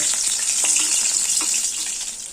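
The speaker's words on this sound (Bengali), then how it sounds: "মাথা আর পেটি উল্টে পাল্টে বেশ লাল লাল করে ভেজে নিয়েছি" Rohu fish head and belly pieces fry in hot oil. A steady bright sizzle runs throughout, with a few soft bumps as the pieces are turned.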